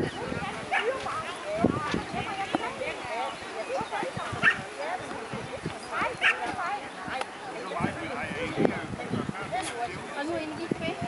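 A dog barks and yips in short bursts during agility training at an outdoor course, mixed with busy activity while people talk and call out throughout.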